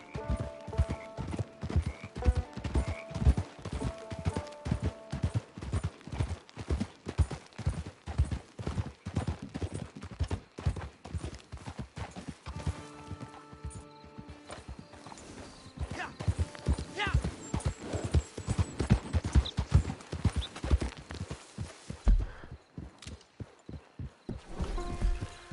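In a console video game, a ridden horse's hooves clip-clop in a steady, fast rhythm throughout, loud and close, mixed with other game sounds.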